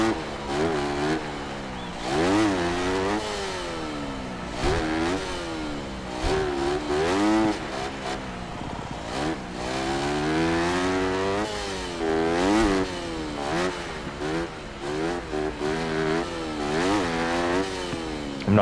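Motorcycle engine in the Monster Energy Supercross 6 video game, revving up and down continuously with rising and falling whines as the throttle is worked, loud and close throughout with no talk.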